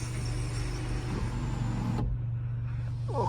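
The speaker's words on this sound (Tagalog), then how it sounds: "So, function ra ang sunroof." Electric sunroof motor on an MG GT Alpha hums steadily inside the cabin for about two seconds, then stops abruptly as the panel reaches its end, leaving a quieter cabin hum.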